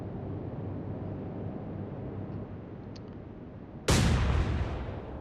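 In the naval video game Atlantic Fleet, destroyer gunfire booms once as a sudden sharp blast that rings out over a steady low engine and sea rumble, with no talk.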